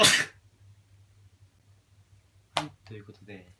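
A person sneezes with their eyes held open, giving two sharp, loud, close bursts, one at the very start and another later that is followed by speech.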